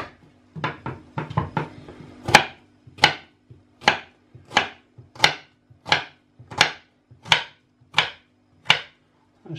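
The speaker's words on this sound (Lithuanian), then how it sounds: "Tai pirmiausia susipjaustom svogūnus." A knife chops onions on a board in a quick flurry of uneven cuts, then settles into steady, evenly spaced chops, each a crisp close thud.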